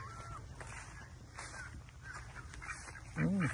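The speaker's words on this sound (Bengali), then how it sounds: "হাঁস প্যাক প্যাক করতেছে" Ducks quack outdoors in a Florida yard alongside a chicken pen, with steady background ambience and a louder burst of quacking near the end.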